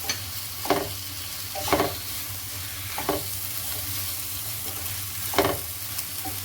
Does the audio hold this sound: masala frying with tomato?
yes